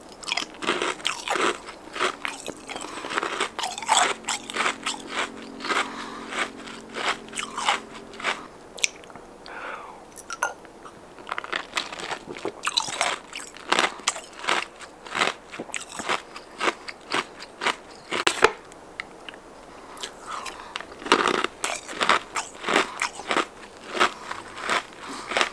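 Ice cubes, some with Monster energy drink and hot chocolate, being bitten and chewed close to the mic in ASMR style, giving loud repeated crunches and crackles in irregular bursts with no talking.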